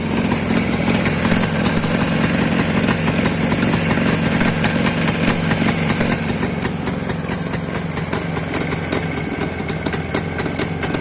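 Rebuilt engine with a Chinese connecting-rod set and SKF bearing, started and running on its carburettor: a loud, steady idle with a dense, even rattle that continues unbroken and close throughout.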